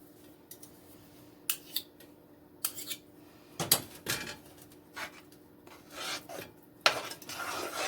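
A spoon stirring and scraping thick peanut butter no-bake cookie mixture in a bowl, intermittent close rasping strokes and clinks separated by short quiet gaps.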